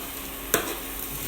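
A spoon stirs food in a pan with squeezed lemon juice just added, one brief scrape standing out over a steady low sizzle, close by and without talk.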